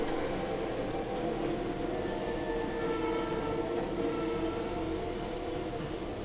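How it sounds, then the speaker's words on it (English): A train passes near a parking lot and self-storage in East LA, heard as a steady distant rumble and hiss that holds without voices. "That's the train."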